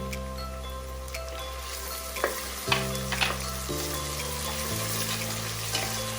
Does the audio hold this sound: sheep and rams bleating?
no